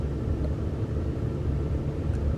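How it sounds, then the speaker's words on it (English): Steady low rumble of road traffic, cars and trucks passing nearby at a constant level, with no talking. "watching the traffic"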